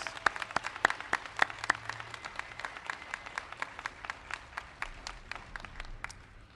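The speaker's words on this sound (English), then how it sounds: "So please give a round of applause" A rally crowd of autism advocates applauds parent advocates, steady clapping at a distance, with many distinct sharp claps in an even rhythm over a softer bed of crowd applause, fairly quiet overall.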